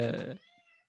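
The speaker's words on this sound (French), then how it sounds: "on entend-tu, il miaule vraiment fort" A house cat meows loudly and briefly nearby, a single drawn-out call that fades quickly.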